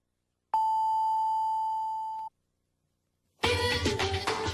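Japanese FM radio hourly time signal, a single sustained pure electronic tone near the microphone lasting under two seconds, followed after a pause by loud broadcast audio.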